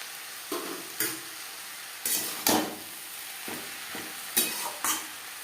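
Ghee being stirred into papaya and spices frying in a pan over a medium gas flame, with a steady soft sizzle broken by about eight sharp scraping stirs of a spatula at irregular intervals.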